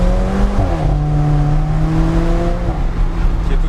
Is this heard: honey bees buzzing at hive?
no